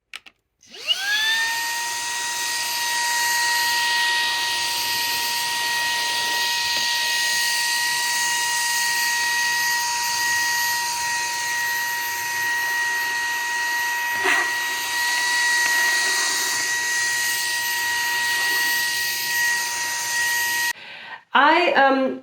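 Shark PowerPro vacuum cleaner running with a hose attachment, a steady loud whine with a high tonal pitch that starts abruptly and holds for about twenty seconds, with a brief bump midway and a short cut-off near the end.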